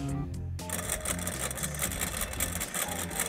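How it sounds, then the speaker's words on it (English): A homemade scrap-metal 3D printer filament extruder runs steadily, a close, continuous mechanical whir and rattle with a low motor drone, no voices. "Hear the beautiful sound of a very precisely made scrap metal machine."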